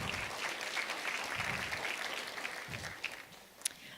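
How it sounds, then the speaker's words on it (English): Warm applause from an audience at an educational leadership summit, a soft, fairly distant wash of clapping that thins out toward the end, with a couple of sharper isolated claps. "let's give them a nice warm applause for helping us with the awards"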